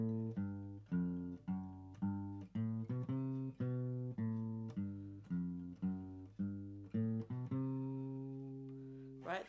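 Guitar playing the bass line of a song, starting on the fifth string: a steady run of clear, plucked low notes in a walking rhythm, close and alone, ending on a sustained ringing note.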